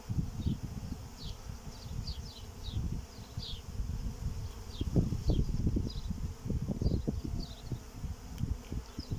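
Carniolan honey bees buzz around a hive at an apiary, a close, continuous drone with frequent swells as individual bees pass near, plus thin high insect chirps in the background.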